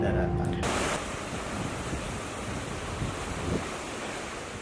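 High surf breaking on the coast at Balikpapan, a continuous broadband roar of waves with steady wind noise, loud and close, with one slightly stronger surge near the end.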